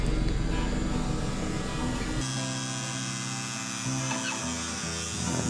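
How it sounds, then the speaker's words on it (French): A power tool cuts aluminium plates during an Iveco 4x4 camper refit, giving off a steady, loud motor whine that shifts in tone partway through and continues without a break. "La découpe des plaques en alu,"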